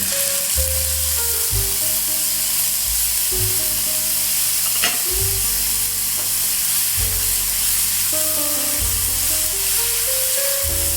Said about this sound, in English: the next step we do is put the balsamic vinegar in